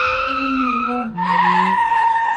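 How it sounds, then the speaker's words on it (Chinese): Car tires squeal in a long, loud skid as the brakes fail and the car cannot stop, the screech shifting pitch partway through. "刹车没用，完全踩死都没反应，车子停不下来。"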